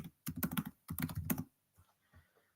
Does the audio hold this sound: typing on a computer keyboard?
yes